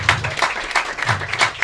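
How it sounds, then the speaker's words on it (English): An audience at an event applauds, with a scattering of individual claps and a voice or two mixed in, moderately loud and close over a short stretch. "So can we all give Tom a huge round of applause for making everything like this happen?"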